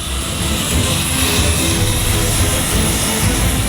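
A TNI Angkatan Udara Hercules military transport, aircraft A1343, drones loud and steady at Franseda Airport in Maumere, a constant engine roar carried on throughout, with a voice talking over it.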